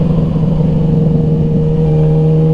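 A 1000cc sport motorcycle holds a loud, steady engine drone while riding, the pitch nudging upward briefly toward the end.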